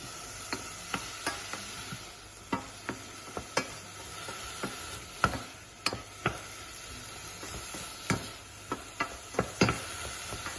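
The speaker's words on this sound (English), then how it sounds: "you just stir gently with the other hand" Gentle stirring of creamy veggie pasta in a saucepan, a spoon scraping and tapping the pan in soft irregular strokes over a faint steady sizzle, close and fairly quiet.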